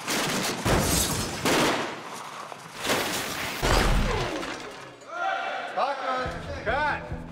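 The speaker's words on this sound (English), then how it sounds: "We're dropping debris. We use balsa wood. It's real light, breaks easy." Light balsa-wood debris drops and breaks apart during a film stunt on a New York Public Library set, in heavy, loud crashing bursts that come in waves. Voices rise near the end.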